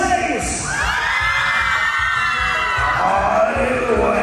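Contest couple shouting at a couples contest in Springdale, Arkansas, with the crowd cheering and whooping along, a dense continuous wall of voices over thumping music, loud and close throughout.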